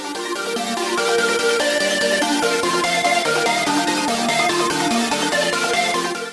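A halftime synth lead layered over plucks, an arpeggio and chords in a beat plays as a busy melodic loop, loud and steady with no talking.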